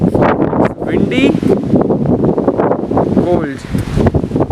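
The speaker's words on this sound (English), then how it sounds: "It's windy," Cold early-morning wind on a Western Ghats mountainside roars against the microphone in a steady, loud rush underneath a person speaking throughout.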